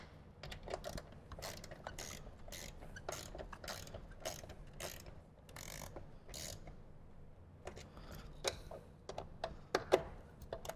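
A ratchet tightens the lower bolts on a 2014-or-later Harley-Davidson fairing, giving repeated bursts of quick, close clicking strokes with short pauses between them and a few louder clacks near the end.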